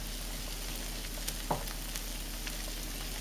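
A pot of chicken and dumplings with basil and parsley, a soft steady simmering hiss with a single brief stir-scrape in the middle.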